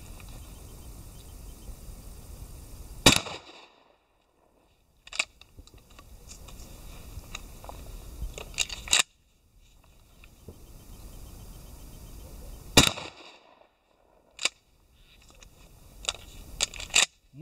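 Rifle shots firing Tornado bullets from TAHO ring out several times outdoors, sharp sudden cracks separated by seconds of quiet, with faint rustling and echo between them.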